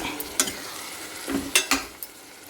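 Tomato curry with salt and chili being stirred in a frying pan, a few scraping strokes of a spoon against the pan over a soft sizzle, close and quiet with no speech.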